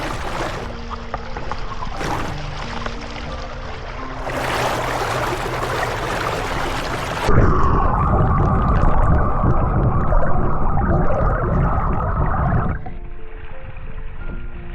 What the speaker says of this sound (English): my camera will plug into the water, allowing us to immerse ourselves in the mesmerizing sound of water